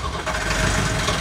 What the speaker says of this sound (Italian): Appena fatto ripartire il motore di Pampero seconda